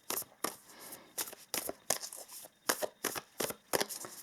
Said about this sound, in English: So let us pull some oracle cards for you